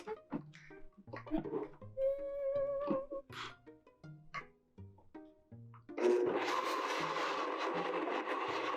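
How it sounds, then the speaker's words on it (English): A person talks briefly, then a blender blending pumpkin kicks on with a loud, steady whirring roar that keeps going to the end. "this blender will probably zoom it up"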